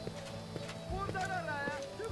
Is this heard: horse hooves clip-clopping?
yes